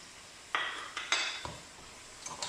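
Minced meat and grated carrots are stirred in a pan for lasagne, with a few distinct scraping clinks of a utensil against the pan over a faint sizzle, no talking.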